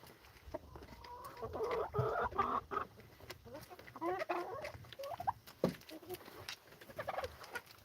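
Chickens cluck and murmur at a low level in a poultry yard, with scattered soft calls and small taps coming and going over a quiet background.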